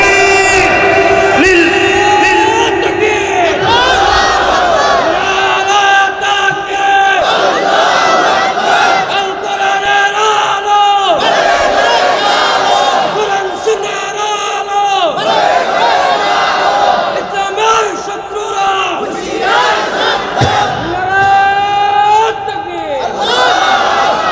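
A large crowd at an outdoor Islamic sermon gathering in Bangladesh roars a chanted takbir response in unison, loud swelling waves of many voices repeated several times over about twenty-four seconds.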